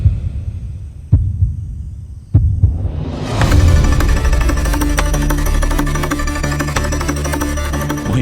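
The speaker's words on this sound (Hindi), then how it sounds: "जहां हमने बाबा को दफनाया था वहां शिव को बाबा के दिल की धड़कन सुनाई दे रही है" A heartbeat sound effect in a Hindi TV drama, supposedly heard from beneath the earth where a man lies buried. Two deep, isolated thuds sound over a low hum, then loud dramatic music swells in and keeps going.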